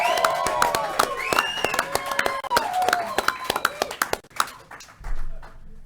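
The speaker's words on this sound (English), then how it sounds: "So a round of applause for these" Scattered audience clapping at a Kentucky Oaks winners' press conference, mixed with bright ringing tones and taps that thin out toward the end before a low thump, with voices murmuring underneath.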